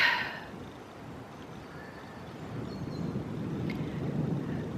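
Outdoor wind blowing steadily as a low rumbling rush buffeting the microphone, loud and continuous for several seconds with no voices.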